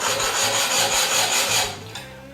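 Wire saw strung on a bow cutting through wood along a gap in ceramic, making loud, close, rhythmic rasping strokes back and forth that taper off near the end.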